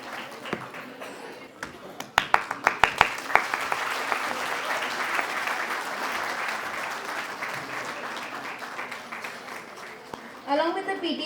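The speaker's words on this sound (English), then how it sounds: "A huge round of applause for all the PTA members" Crowd applause for PTA members at a school annual day celebration, dense steady clapping with a few sharp louder claps near the start, sustained for several seconds before a voice breaks in at the end.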